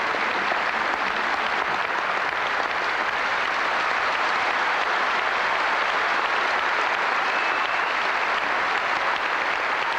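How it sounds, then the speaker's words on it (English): Sustained, dense applause from a large audience at a Shaolin monks' martial arts performance in Vienna, steady and loud throughout with no voices standing out. "you can hear the crowd here in Vienna absolutely enthralled for what they're seeing"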